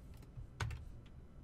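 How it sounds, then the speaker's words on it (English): A few soft keystrokes on a computer keyboard with a sticking Enter key, one firmer tap standing out among light, sparse clicks, close and quiet. "Sometimes when I hit enter, for whatever reason, this keyboard sticks."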